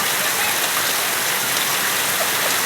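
Steady rain falling outdoors, an even wash of dense droplet hiss that stays constant and fairly close throughout, with no talk.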